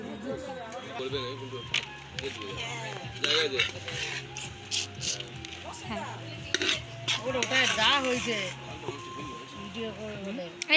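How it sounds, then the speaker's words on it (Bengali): A metal spoon clinks and scrapes against a plate as someone eats rice during a wedding-day lunch, repeated light taps and scrapes, with people talking throughout. "চামচ দিয়ে ভাত খাচ্ছে বসে বসে"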